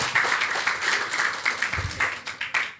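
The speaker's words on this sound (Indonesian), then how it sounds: "Berikan tepuk tangan kita untuk Tuhan kita." Church congregation applauding together in a worship hall, a steady wash of many hands clapping at moderate distance with scattered sharper claps rising and falling.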